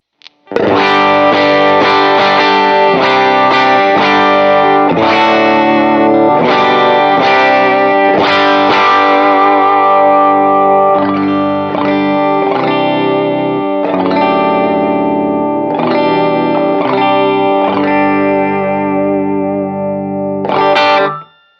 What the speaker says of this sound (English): the boost just adds just a little bit of grit and headroom, which I really, really like